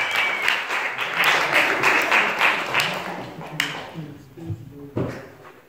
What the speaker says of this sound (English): Give a round of applause for my man over here